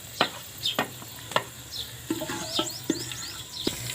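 Onions frying in a pot, with spoon scrapes and stirring knocks at irregular intervals over a soft background sizzle, close by and with no talking.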